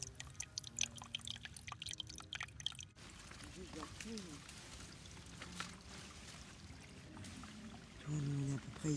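Spring water trickles and pours steadily at the abandoned Angicourt sanatorium site in the Oise, with scattered drips over a constant wash. Faint voices are heard briefly in the background.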